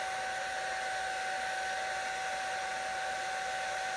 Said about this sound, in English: Just give her some attention to it while I blow dry her.